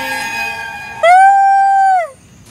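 A long, steady, tonal dog howl rises sharply and holds for about a second, loud and close, following a quieter sustained tone.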